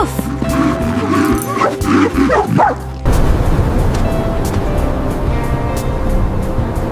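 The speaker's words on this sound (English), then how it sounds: "Woof woof." A dog yips and barks in several quick bursts over background music, the barks close and fairly loud in the first few seconds.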